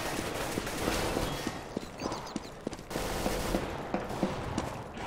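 Shotgun headshots in a shooting video game with a P90 and an AK in play: sharp, punchy gunshot cracks burst repeatedly through dense, busy game noise, several loud hits spread across a few seconds.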